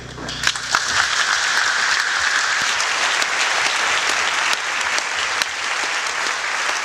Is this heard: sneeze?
no